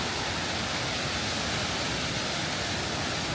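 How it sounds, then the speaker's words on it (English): A man-made waterfall in a river valley in Abruzzo, Italy, roars as a steady, loud, broadband rush of falling water, continuous and close with no voices over it. "And then we've got man-made waterfalls"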